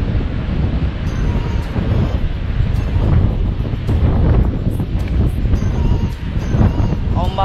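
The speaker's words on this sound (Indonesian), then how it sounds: "Ombaknya guys." Ocean surf washes steadily onto the shore at Karang Gajah on the coast near Sancang forest in Garut, a broad continuous roar mixed with wind buffeting the microphone and no clear breaks between waves.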